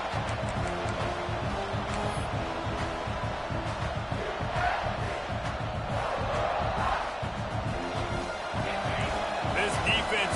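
Roaring stadium crowd in a college football video game, LSU at South Carolina, near goal line. The dense, steady crowd din runs throughout under play-by-play commentary.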